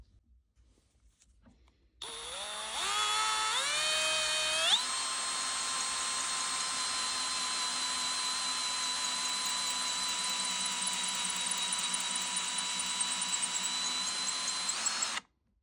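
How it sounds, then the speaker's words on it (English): A high-pitched electric drill boring a hole in plastic on a Dual 502 turntable spins up in steps, then whines steadily and loudly for over ten seconds before abruptly stopping. "going to drill the inner hole using the same pilot hole right in the middle to make a ring"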